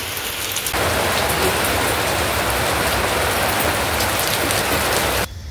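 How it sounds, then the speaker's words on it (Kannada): Heavy rain pours down in a dense, steady roar that stays loud and close without a break, then cuts off abruptly near the end; no voices are heard. "ನೋಡಿ ಫ್ರೆಂಡ್ಸ್ ಎಷ್ಟು ಮಳೆ ಅಂತ"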